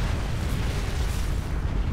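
A continuous roaring explosion and fire blast in a burning industrial building in the firefighter video game Real Heroes: Firefighter, loud and dense throughout with no talk.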